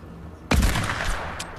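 Gunfire in a video game, a sudden loud burst of rapid shots that fades into echoing rumble, with a second fainter crack a moment later.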